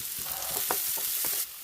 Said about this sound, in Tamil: கடுகு பொரிச்சு வெங்காயம் சேர்த்துக்கலாம்.